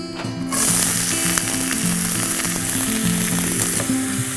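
Onions fry in hot oil in a pan with bay leaf, cardamom, black pepper and cloves, starting with a sudden loud hiss that settles into a steady, close, crackling sizzle with occasional stirring scrapes.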